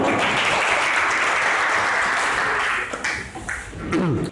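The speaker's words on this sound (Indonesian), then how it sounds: "Ayo kasih aplaus buat Ayu" An audience at a school classroom session claps for a student named Ayu, producing a loud, dense burst of applause that holds steady, then thins into scattered claps and a brief voice before ending.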